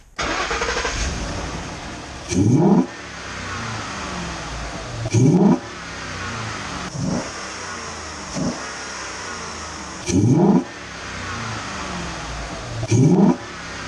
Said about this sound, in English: I'm going to fire it up now and we'll see if there's any difference in sound